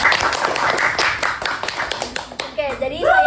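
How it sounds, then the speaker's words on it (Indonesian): An audience at a middle school student council podcast recording claps briefly, a burst of hand claps that fades under children's voices, with a voice speaking near the end. "Beri tepuk tangan yang meriah."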